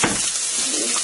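Chopped onions hit hot vegetable oil in a frying pan, a steady close sizzle with a brief louder burst at the start, no talking over it.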